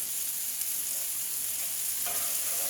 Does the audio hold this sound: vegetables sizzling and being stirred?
yes